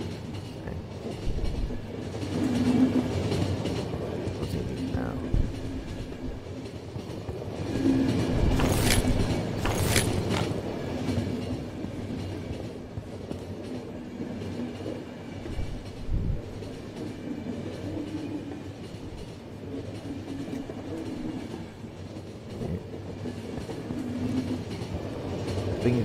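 Train from the video game The Final Station rolling along its rails, a steady low rumble with faint rhythmic clatter and brief brighter metallic bursts midway, continuous and fairly close with no talking.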